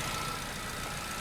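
A car engine running steadily at idle, a constant low broadband rumble filling the whole moment with no pauses or voices.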